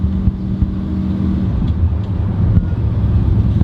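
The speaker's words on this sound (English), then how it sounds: "Sounds really nice now with that exhaust all in place. Still got a good rumble to it" A truck's engine idles through its newly fitted exhaust with a steady, loud, low rumble, close by and continuous with no voices.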